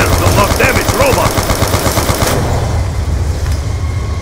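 A robot's weapon fires in a video game, a rapid machine-gun-like burst of shots that rumbles loudly for a couple of seconds and then cuts off, leaving a quieter hum.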